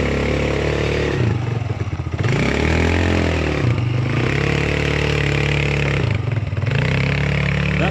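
Polaris RZR 200 UTV setting off toward the trails, a close, loud small engine droning steadily with a couple of rev dips and rises and some clattering, no voices.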